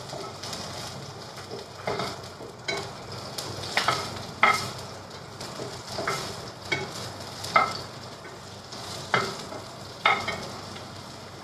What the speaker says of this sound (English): the pasta is going to continue cooking in the pan